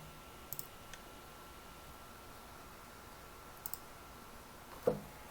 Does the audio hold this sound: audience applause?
no